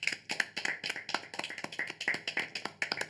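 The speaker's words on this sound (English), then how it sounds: "Give a small round of applause for our players and for our BSL interpreter." A small audience gives a brief round of applause for the players and a BSL interpreter at a live tabletop gaming stream, sparse individual claps in an irregular patter, fairly close and modest in volume, with no talk.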